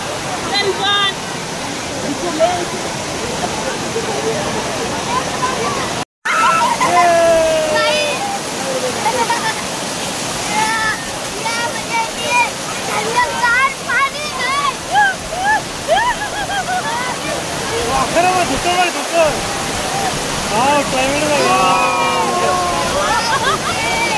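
Steady rushing water from a waterfall at Bhushi Dam, Lonavala, continuous and fairly loud, with a crowd's voices and chatter layered over it throughout.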